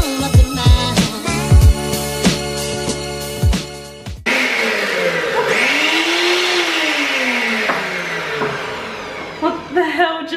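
A NutriBullet blender grinds oats into fine powder: a steady, loud whirring motor drone that rises and falls in pitch, after several seconds of music with a voice, then stops with a few clunks at the end.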